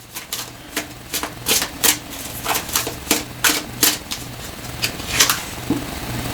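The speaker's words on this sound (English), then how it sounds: "Let's shuffle this one more time." A deck of tarot cards riffled and shuffled by hand, a rapid series of crisp, papery flicks and snaps in uneven bursts, close and clear with no talking.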